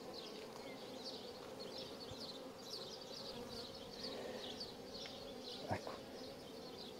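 Honey bees on a hive frame in an urban beekeeping setting produce a dense, steady buzzing hum that continues unbroken throughout, with a soft knock of handling near the end.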